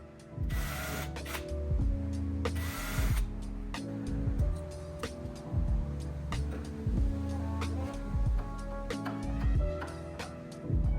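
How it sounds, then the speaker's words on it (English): Power drill boring small pilot holes into wood, with short bursts of whining motor and repeated start-stop revving, close by and fairly loud, separated by brief clicks and handling noise. "I'm going to drill some tiny pilot holes so that when I do put the screws in, they don't split the wood"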